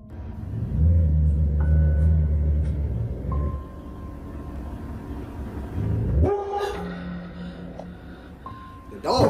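A dog barks a few times inside a house in Alabama, under a low rumble, with people talking over parts of it.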